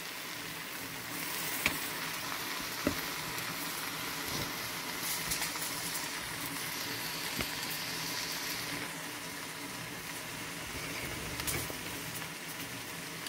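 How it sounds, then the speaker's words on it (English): Food sizzles softly in butter in a skillet, a faint steady hiss with a few light clicks of stirring, quiet and without talk. "to the skillet is a little butter. And we're going to go ahead and give this a stir."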